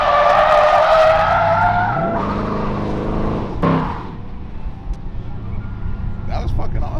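A Ford Mustang RTR does a burnout, its engine roaring loud and close as the tires squeal and skid continuously, the pitch dropping partway through before the screech and engine noise build again.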